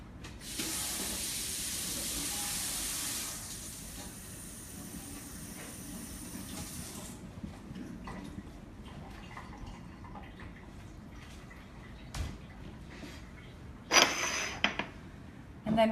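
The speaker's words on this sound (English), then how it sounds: "I will give it a quick rinse, just to be super sure." A head of cabbage is rinsed under a running kitchen tap, a steady bright hiss of water lasting several seconds before cutting off, followed by quieter handling clatter and a few sharp knocks.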